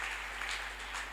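A church congregation claps hands together during Sunday testimonies, a faint, dense wash of clapping with a steady low hum underneath.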